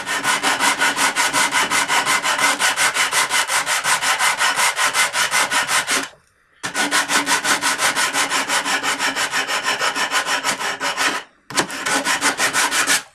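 Rapid rhythmic rubbing of sandpaper wrapped around a drill bit shank on a wooden bow saw part, close and loud, in three long bursts of back-and-forth strokes separated by brief pauses.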